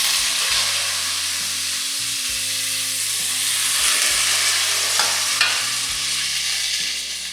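Sliced onions sizzle and fry loudly with chicken in a hot pan, a dense steady crackle with occasional stirring scrapes, close and unbroken, with no voices.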